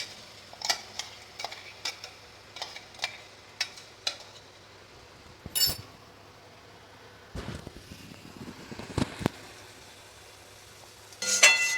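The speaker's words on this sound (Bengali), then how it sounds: "আদা রসুন পেঁয়াজ কাঁচা লঙ্কা যে মশলাটা বেটেছিলাম ওটাকে এবারে দিয়ে দিচ্ছি" Ground paste of ginger, garlic, onion and green chilli added to a hot pan for a chicken dish, a soft sizzle under a string of sharp spoon taps and scrapes against the pan, with a louder clatter near the end.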